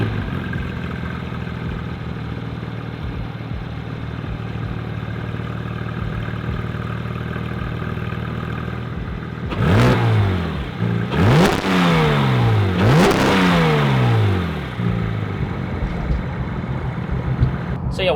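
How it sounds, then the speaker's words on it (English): A stock Porsche GT3 supercar idles with a steady low rumble, then the engine is blipped in three sharp revs that rise and fall quickly before settling back to idle, loud and close. "I'll show you the stock, what it sounds like"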